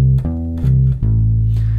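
A bass guitar plays a minor triad arpeggio on the third scale degree, three sustained low notes ringing one after another, close and clear with no talking.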